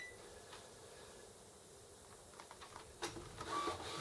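An Epson XP-600 inkjet printer runs off copies, giving a low, quiet mechanical whir with a few soft clicks and a louder feed movement toward the end, and no voices over it.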